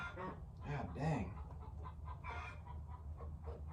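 Chickens cluck close by in a farmyard, a few throaty clucks and squawks over a low background hum, fairly faint.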